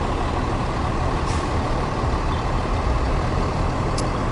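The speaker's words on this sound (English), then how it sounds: "We got another response type vehicle here from Colton making their way through." Colton fire department response vehicle, unit 1201, a fairly large truck rolling through a Fourth of July parade in Jackson: a steady, loud broadband engine rumble with faint high hisses of an air brake.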